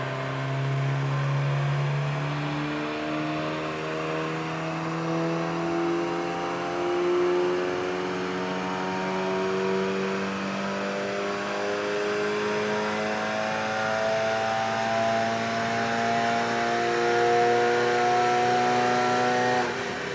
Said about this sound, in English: So let's run it up, shall we